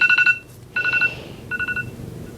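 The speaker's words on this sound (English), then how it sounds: "That's my alarm to tell me to get ready." A phone alarm chimes in three short bursts of rapid electronic beeps, each separated by a brief pause, close and clear over a quiet room, with no talking.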